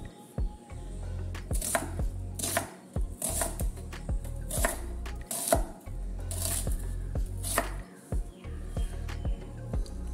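Knife chopping bilimbi (irumban puli) fruit into large pieces on a board: a steady run of close, sharp chops with brief pauses between bursts.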